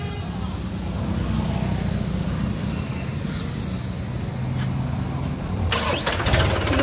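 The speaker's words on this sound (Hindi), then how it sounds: "ट्रैक्टर क्या शानदार आवाज़ है" A small Mahindra 365 4x4 tractor engine hums at idle, then near the end it cranks and catches with a louder burst of mechanical clatter.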